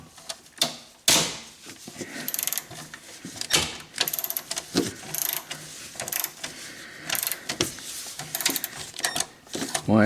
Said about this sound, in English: So now I'm going to take a 10mm socket and remove the filter.